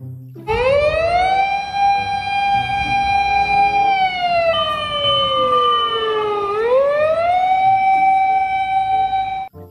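A toy fire truck siren wails loud and close, holding a steady electronic tone, then dipping and sliding back up in a long sweep before cutting off abruptly.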